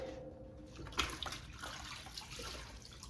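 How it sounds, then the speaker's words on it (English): Tap water runs steadily into a kitchen sink as hands are rinsed under it, with soft splashing and a few clatters, fairly quiet and close. "My hands are clean, but I'm gonna wash them again."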